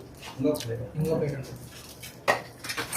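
A ceramic plate lifted and handled at an outdoor dosa-making stall, giving a few clattery knocks and scrapes close by, heard alongside chatter from people nearby.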